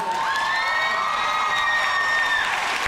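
A crowd at the 2014 Comic Con International 'Once Upon A Time' panel cheers loudly, with sustained shrill screams and whoops filling the whole stretch and a dense roar of voices beneath.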